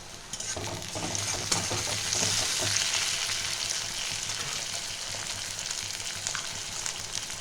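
Chopped tomato dropped into hot oil in a pan for khichuri, a loud dense sizzle that swells and settles into steady frying with some stirring scrapes.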